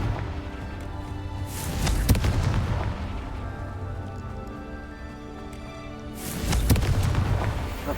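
Two deep booming blasts from the Confringo spell in Hogwarts Legacy, a few seconds apart, each swelling with a rumbling tail over a steady background of game ambience.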